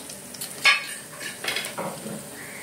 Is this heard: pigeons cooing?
no